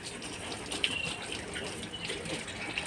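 Water pours steadily from a tap or container at close range, a continuous splashing wash with a few brighter spatters, with no voices.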